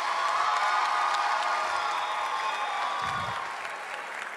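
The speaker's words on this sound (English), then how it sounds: "a round of applause for doing homecoming" Crowd applause at a university homecoming spirit chapel, sustained clapping with scattered cheers and whoops from a large audience, steady before easing slightly near the end.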